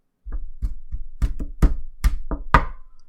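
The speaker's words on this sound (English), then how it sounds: "Show me a wood knock sequence on your desk." A wooden desk is knocked about eight times in an uneven, deliberate sequence, each knock sharp and close with a short resonant thud, alone with no talking.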